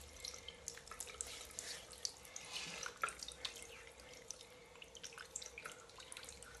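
A thin, weak stream of tap water with low pressure trickles and splashes into a foot spa basin, faint and steady with small drips.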